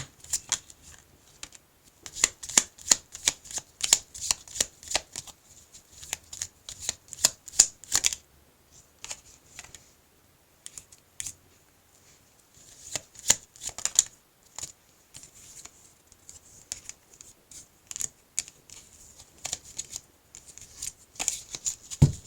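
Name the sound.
tarot cards being shuffled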